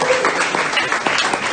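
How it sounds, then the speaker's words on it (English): An audience at a same-sex marriage postal survey reflection event claps for a government relations team, steady, fairly loud applause throughout the brief moment. "A huge round of applause to our government relations team."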